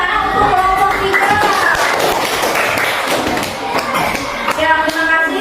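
Classroom students clap for a group after its discussion report; brisk hand claps and taps ring out close by for several seconds, mixed with voices of children talking over them.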